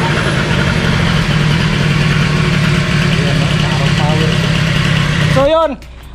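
A Honda Dio 90cc scooter engine runs loud and steady close to the microphone, holding a constant buzzing drone for several seconds before cutting off abruptly near the end.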